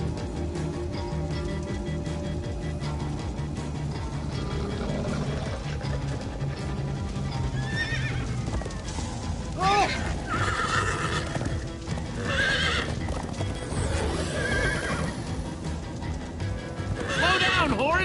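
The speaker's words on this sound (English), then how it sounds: "Slow down, horse!" A horse in the Minecraft Story Mode video game neighs and gallops with steady clip-clopping hooves, mixed with game music, effects and voices talking.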